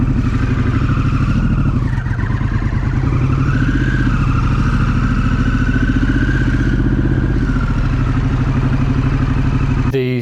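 A Harley-Davidson Pan America 1250 Special demo bike with an aftermarket exhaust idles loud and close, a steady deep engine rumble with a lightly rising and falling tone and some mechanical clatter throughout.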